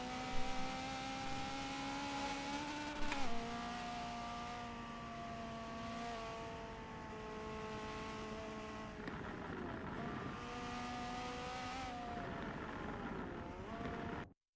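Race car engines in Forza 7 at Virginia International Raceway, including a Centurio, hold a steady, loud, multi-harmonic drone that shifts pitch through a hairpin turn and onto a straightaway.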